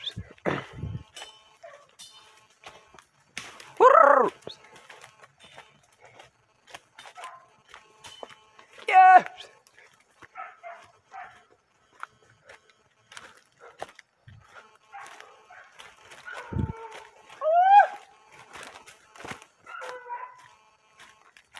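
Hunting dogs on an armadillo hunt bark and yelp in scattered bursts, some fairly close and others more distant, separated by stretches of quiet over about twenty seconds.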